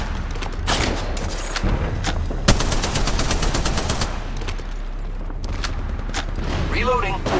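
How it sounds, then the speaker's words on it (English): Enemy gunfire in Apex Legends, with rapid automatic bursts and dense rattling volleys plus a few sharp booms, loud and close. A voice speaks intermittently underneath. "The enemies are shooting at me."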